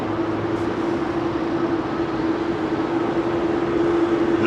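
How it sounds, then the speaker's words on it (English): A Boeing 787 Dreamliner takes off from runway 27R at London Heathrow, a loud, steady jet roar with a sustained low hum running unbroken throughout. "That 787 Dreamliner that just went out."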